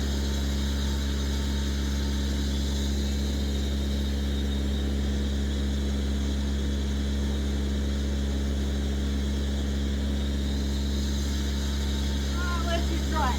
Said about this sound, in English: Come on, compressor.